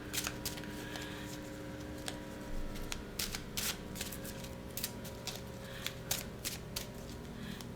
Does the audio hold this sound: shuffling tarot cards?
yes